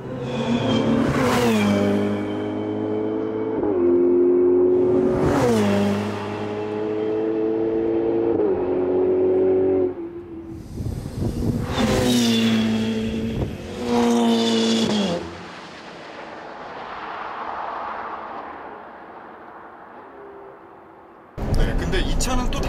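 A Ferrari 812 Superfast V12 revs hard through its exhaust in repeated rising howls, each climbing and dropping between gear pulls, loud and close with a brief quieter stretch near the end.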